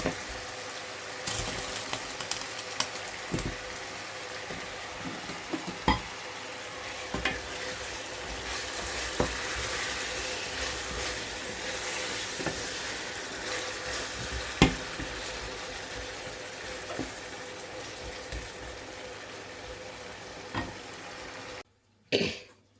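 Brinjal cooking in a fried spiced masala, a steady low sizzle with scattered clicks and scrapes of stirring over about twenty seconds, and a brief cough or throat clearing near the start.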